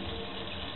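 Tap water runs in a steady, even stream for a brief moment, close and fairly quiet, with no voices.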